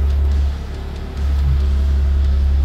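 A BMW M2's combustion engine roars and settles into a deep, loud idle rumble, dipping briefly before holding steady close by.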